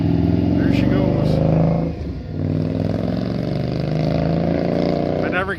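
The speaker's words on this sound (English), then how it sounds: "I never get to hear my bike exhaust from being off the bike." An Indian motorcycle with a brand new tire and freshly bled brakes rides by, its exhaust a loud, steady engine drone that dips briefly and then returns, with rough low rumble throughout.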